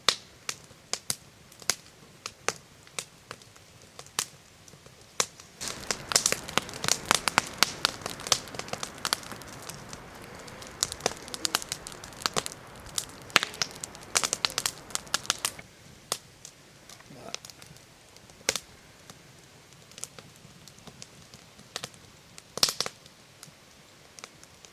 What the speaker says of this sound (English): At least the fire's going good.